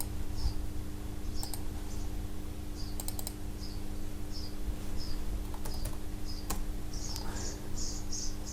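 Computer mouse clicks, sharp and isolated, scattered irregularly over a steady low electrical hum, close to the microphone in a quiet room with no talking.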